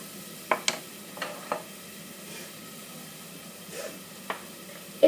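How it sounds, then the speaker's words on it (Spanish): Onion stirred in a pan over low heat, giving a soft steady sizzle broken by a handful of scraping and clinking stirring sounds, close and fairly quiet. "nuestra cebolla ya empezó a estar, entonces la revolvemos un poco. La dejamos en fuego bajo para que no se nos queme."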